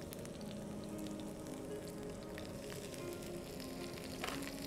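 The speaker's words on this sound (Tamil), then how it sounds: "நல்லா வந்து ஃப்ரை பண்ணிக்கோங்க" Steady, dense sizzling of chopped ginger and green chilies frying in hot oil, continuous and close, with no voices.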